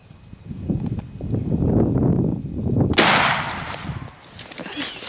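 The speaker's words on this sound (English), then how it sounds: "As soon as you get on one of them, shoot him." A single loud shotgun blast rings out during a Kansas Rio Grande turkey hunt, a sharp crack following rustling and low noise outdoors, with no talk.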